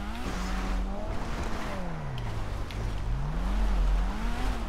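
A Weeny Issi Sport car racing around a track in a video game, its engine note rising and falling with gear changes, loud and continuous with faint tyre noise and no talk.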